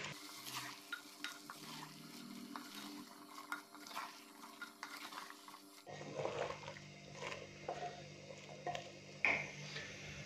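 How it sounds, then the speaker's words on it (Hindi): Pumpkin curry being stirred in a cooking pot, a soft scraping and stirring with light sizzle, steady and close, continuing at a similar level throughout with no talk. "तो अच्छे से हम इसको मिक्स करेंगे।"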